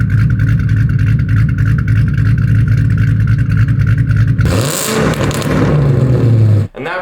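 Cammed, fully bolted, dyno-tuned 3-valve 4.6-liter Ford Mustang engine revving loud and close, a steady throbbing drone for several seconds, then a sharp rev surge that settles back before cutting off.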